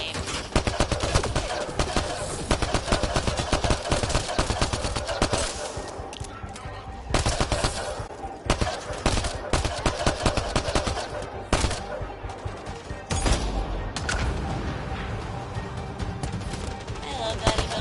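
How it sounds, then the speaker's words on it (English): Rapid bursts of gunfire from enemies in Mass Effect Andromeda crackle loudly and repeatedly, with dense sustained volleys and brief lulls, mixed with game effects and someone talking. "I have people shooting at me"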